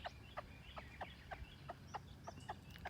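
Backyard chickens cluck in a steady run of short, repeated calls about every half second, moderately close over a low rural background hum.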